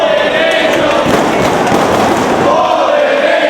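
Wrestling crowd at an ROH Homecoming event cheering for Christopher Daniels, a steady, dense roar of many voices filling the arena with no pauses, loud and continuous throughout.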